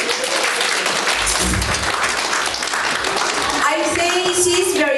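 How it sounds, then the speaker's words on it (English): Audience applauding at an induction ceremony of a community association, a steady dense patter of many hands filling the whole stretch, with a voice briefly audible over it near the end. "A round of applause, please."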